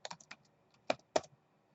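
Several sharp, close keystrokes on a computer keyboard arrive in uneven bursts with short pauses, quiet and dry, with no talking over them.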